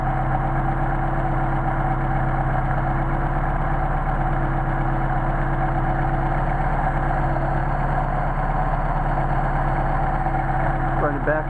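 A Mercedes 190SL engine fitted with Solex carburetors idles in freezing 29°F weather, a steady, even low rumble with a constant hum that runs unbroken and close.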